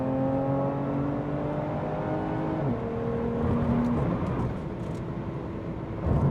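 A 2020 Lotus Evora GT engine pulls hard in third gear, its steady droning note holding, then shifting pitch partway through as the car accelerates. Road and wind noise sit underneath, and there is no talking.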